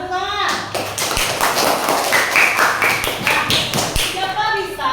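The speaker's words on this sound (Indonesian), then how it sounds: "Tepuk tangan." Schoolchildren clap their hands together in a classroom, a loud burst of rhythmic taps and claps mixed with children's voices and shuffling.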